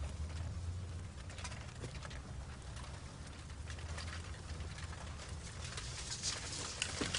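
Pigeons coo steadily over a dense outdoor background hum, their soft, repeated calls continuing throughout without any talk.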